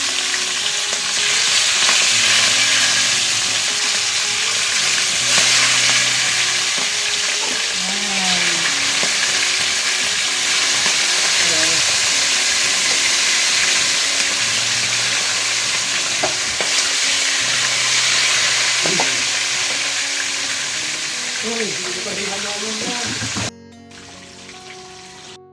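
Milkfish (bangus) fries in hot oil for the whole stretch, a loud, dense crackling sizzle with occasional popping bursts, with no talk, before it cuts off sharply near the end.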